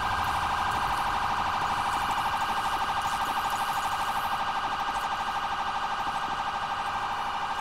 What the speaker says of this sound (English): I wish they would turn off their siren